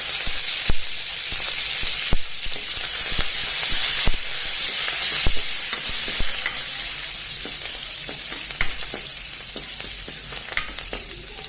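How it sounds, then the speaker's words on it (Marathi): Crushed garlic and asafoetida sizzle steadily in hot oil for a Marathi-style dal and bottle gourd curry, a close, loud, continuous hiss broken by sharp clicks from stirring. "हिंग टाकला की त्याच्यामध्ये लसूण ठेचलेला टाकायचा 1 गड्डा"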